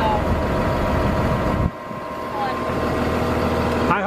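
A big machine's engine idles with a steady low rumble close by, briefly dipping in level before settling back, while people talk over it.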